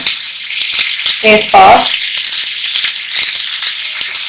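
Onions frying in hot oil with whole spices such as star anise and cloves, a steady sizzle that flares briefly louder as more goes into the pan, with a few short words spoken.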